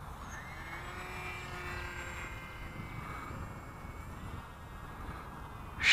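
Radio-controlled BF-109 model airplane making a slow flyby pass, its faint motor whine sliding in pitch from a distance over soft wind noise.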